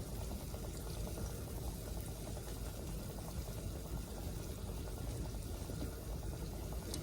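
A fritter fries in oil in a pan, giving a steady, dense sizzle with crackling bubbles that continues close and loud throughout, without any talk.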